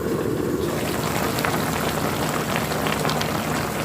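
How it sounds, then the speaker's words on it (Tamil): Chicken for Sri Lankan devilled chicken boils in a pot with a steady, dense bubbling that runs without a break from start to finish, close and fairly loud. "சிக்கன் வெந்து கொண்டிருக்குது"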